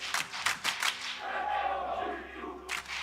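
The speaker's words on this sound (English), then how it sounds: "The fans begin to cheer." Fans at an esports arena during a League of Legends semifinal cheer and chant, a broad crowd roar with rhythmic claps or stomps early on, moderately loud and distant.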